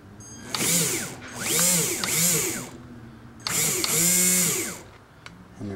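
Custom rewound brushed motor armature in a pink pocket rocket motor can, whining up and spinning down in repeated short runs, close and loud with rising and falling pitch.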